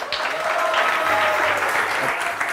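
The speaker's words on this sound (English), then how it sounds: "Now, please, a big round of applause" An audience at a startup demo day claps warmly to welcome the next presenter, steady applause at moderate volume with a faint murmur of voices beneath it.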